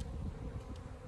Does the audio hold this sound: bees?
yes